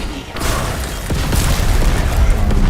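A Semtex grenade explodes in a video game: a loud, dense booming blast that swells and rumbles through nearly three seconds of sustained roar.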